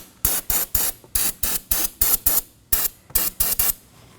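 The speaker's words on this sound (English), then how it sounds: "I'm going to clean the surrounding area with some brake cleaner and a rag." Short bursts of brake cleaner sprayed around the brake fluid reservoir of a 2015-2023 Nissan Maxima, about fifteen sharp, close hissing spurts in quick rhythmic groups with brief pauses between them.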